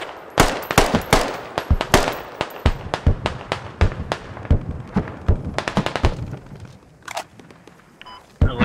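Video-game gunfire from enemies cracks in rapid, uneven bursts of loud close shots that keep coming for several seconds, thin out briefly, then pick up again.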